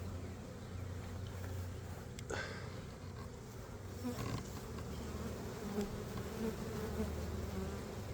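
A swarm of honey bees buzzes steadily outdoors, a dense continuous drone filling the whole span with individual bees passing closer now and then.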